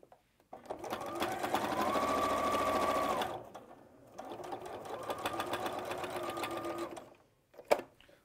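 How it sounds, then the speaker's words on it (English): A sewing machine stitches a cushion seam in two bursts, the motor whirring up to a steady drone, pausing briefly, then running again before stopping with a click; faint voices sit in the background. "you're going to stitch 1/4 inch down that seam"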